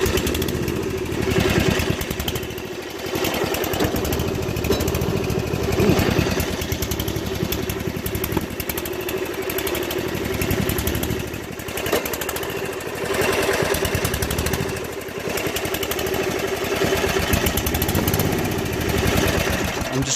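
Murray Black Beauty lawn mower engine at high throttle with a suspected major internal fault, a loud, steady, rough roar with clattering texture running continuously up close.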